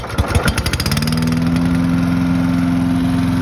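A Gardenbaut wood chipper's small engine catches with a few loud uneven pops, then settles into a steady, close, continuous idle with no talk.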